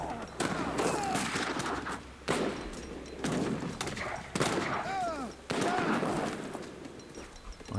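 Repeated cannon volleys from leather cannons in an Age of Empires-style strategy game, loud booming bursts in several waves with crackling shots between, heard under a commentator's voice.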